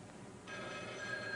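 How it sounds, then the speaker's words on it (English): A telephone rings indoors, a faint electronic trill starting abruptly and continuing steadily at low level. "This is a personal phone call."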